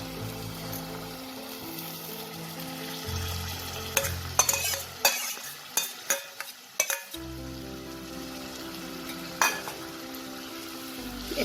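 Spinach paste stirred into sizzling spice masala for dhaba-style palak chole: constant frying hiss with a run of sharp spoon knocks against the pan midway, no talking.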